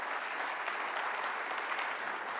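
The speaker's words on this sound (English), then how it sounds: "How about we give them another round of applause?" A conference audience at a keynote gives an even, continuous round of applause, a dense wash of many hands clapping together, moderately loud.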